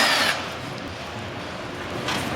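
A power drill whirs loudly in short bursts while backing out screws from the service panel of an air conditioner condenser unit, close and with no voices.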